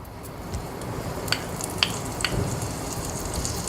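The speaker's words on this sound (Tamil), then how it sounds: "அதில் வந்து கொஞ்சம் வெண்ணெய் க்யூப்ஸ், சும்மா ஒரு 4-5 வெண்ணெய் க்யூப்ஸ் வந்து சேர்த்துக்கோங்க" Butter cubes, four or five of them, melting in a hot pan while preparing a soup, give a steady soft sizzle and crackle with a few brief sharp pops, close and alone.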